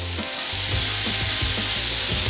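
Soy sauce hitting a hot pan of mushrooms, garlic and ginger, a loud steady sizzle with rhythmic scraping and stirring clatter underneath, close and continuous.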